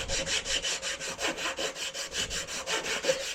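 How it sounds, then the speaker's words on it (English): Cement and paint being smoothed off a length of PVC pipe during laundry room plumbing work, heard as a steady, even run of about fifteen quick rasping back-and-forth strokes, close and alone. "There's like a lot of cement and paint on this PVC, so I just want to try to smooth it out a bit"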